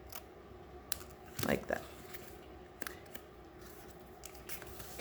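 Scissors snip through a paper card, giving a brief crisp cut near the middle, followed by light paper handling and small clicks while a voice speaks briefly.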